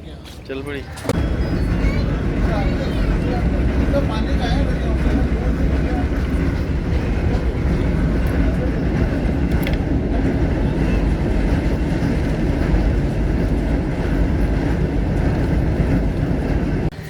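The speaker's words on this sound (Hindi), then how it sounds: "ये ट्रेन चल पड़ी" A passenger train pulling out of Wazirabad station in Pakistan, a steady loud rumble and clatter of wheels and carriages building right after a sharp start, with a voice talking over it.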